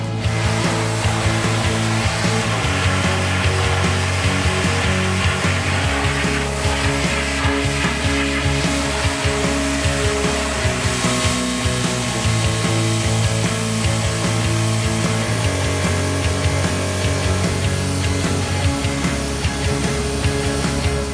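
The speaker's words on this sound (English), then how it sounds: "This gorgeous electric pressure washer from Ryobi." A Ryobi electric pressure washer runs with a loud, steady motor whine and hum that holds unbroken for about twenty seconds, with no talking.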